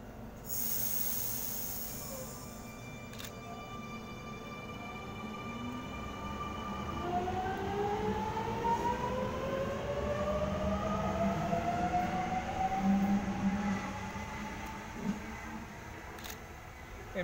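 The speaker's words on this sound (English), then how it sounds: "Set now departing from platform number 1." A Sydney train set pulls away from platform 1 at Turrella, its motors whining in rising tones over a steady rumble, with a brief hiss at the start and a few clanks along the way.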